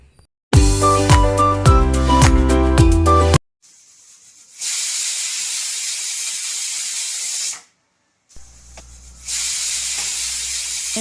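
A pressure cooker holding chopped onion, tomato and green chili lets out loud, steady steam hisses in two long bursts with a short gap between them, after a brief stretch of music.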